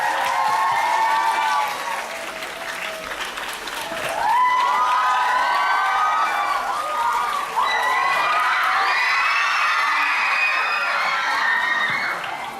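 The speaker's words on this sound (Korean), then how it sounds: "Mr. 이현 and Miss 이채영. 예, 큰 박수로 환영 부탁드립니다" Loud, sustained applause from a large crowd at a film stage greeting at the Puchon International Fantastic Film Festival, with cheering and shouts rising over it, continuous throughout.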